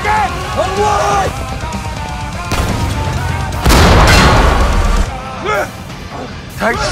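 Tank strike explosions in the war game Foxhole: a heavy booming blast lands mid-clip amid scattered gunfire and crashes, with excited voices shouting throughout.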